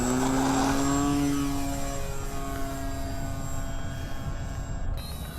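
A radio-controlled model airplane at a flying field in the rain, its propeller engine giving a steady, close whine that shifts in pitch as it passes by, with no talking.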